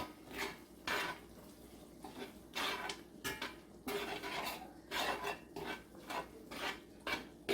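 Seasoning being stirred into a Great Northern bean fritter mixture in a pan, with repeated scraping and clinking strokes of a utensil against the pan in an irregular rhythm, close and fairly quiet, with no talking.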